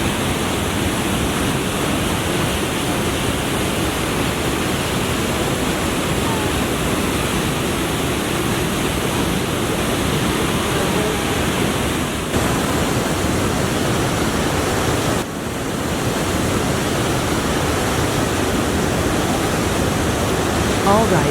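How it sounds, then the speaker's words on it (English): Niagara Falls waterfall at the Cave of the Winds, a loud, steady broadband roar of cascading water that stays dense and unbroken throughout, with only brief dips in level. "That's the Cave of the Winds tour, getting right up close to the cascading water."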